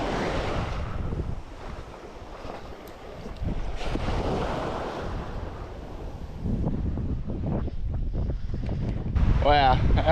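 Ocean waves break against red dirt cliffs above deep blue water, a continuous roaring wash mixed with gusty wind noise on the microphone, with swells rising and falling throughout.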